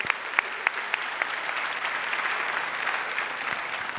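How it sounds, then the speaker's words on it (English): Applause from an audience honouring students at a medical college orientation and white coat ceremony, a steady, moderately distant wash of many hands clapping with a few sharper individual claps standing out. "A round of applause to my students."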